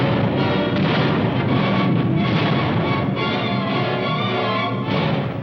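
Artillery fire in World War II Battle of the Bulge footage around surrounded Bastogne, a dense continuous rumble of distant booms and bursts blended into a loud, unbroken wall of noise with no voices.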